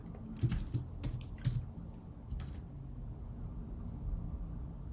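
Quick bursts of keystrokes on a computer keyboard, a few clustered taps then a pause and another short run, close and fairly quiet over a low steady room hum.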